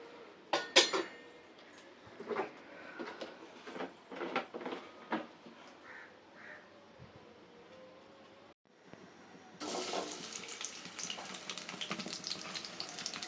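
Biryani spices fry in a pan, with a quiet sizzle, scattered clinks of utensils against the pan and stirring scrapes; the frying grows louder and denser toward the end.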